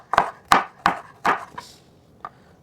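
A knife dices an onion on a cutting board in a home kitchen, five sharp chops in uneven rhythm followed by a softer final tap, close and clear with no talking.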